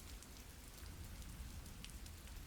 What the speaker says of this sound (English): Rain's tapping away at the awning